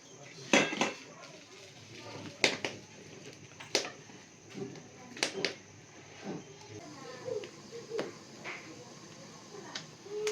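Metal lid set onto a cooking pot of ghevda bean rice: a few sharp clinks and clatters, close and fairly crisp, scattered over several seconds with faint voices in the background.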